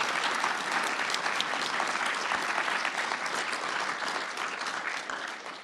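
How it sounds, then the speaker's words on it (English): A conference audience applauds a panel on Appalachia after coal, a dense and steady round of clapping that carries on evenly and fades slightly at the very end. "Let's give a round of applause to our panel."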